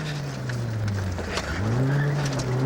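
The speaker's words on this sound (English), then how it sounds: "Braking hard." A British Rally Championship car on a stage brakes hard, the close engine note dropping sharply in pitch before climbing again as it powers away.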